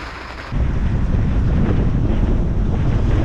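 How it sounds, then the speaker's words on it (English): Strong 20 to 30 knot wind buffets a boat moored at St. Augustine in rain, a loud steady roar with rushing water and hull motion, jumping up sharply after a brief quieter start. "We're out here rocking and rolling in somewhere between 20 and 30 knot winds here in St. Augustine"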